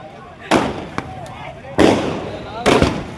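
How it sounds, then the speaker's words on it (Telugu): Loud bursts of big firecrackers set off on a road, three sharp blasts spaced about a second apart, each with a crackling tail, close to the listener. "పెద్ద బాంబు ఎత్తి ఆడేసాడు"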